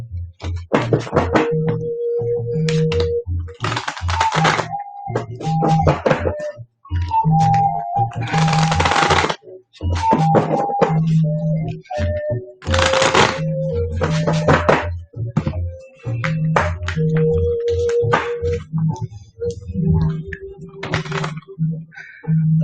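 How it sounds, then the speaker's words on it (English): A card deck is shuffled half at a time, bursts of quick riffling and soft thunks of cards against a surface, repeated several times with short pauses, close and fairly loud, set against a steady low hum. "I'm trying to get them shuffled here."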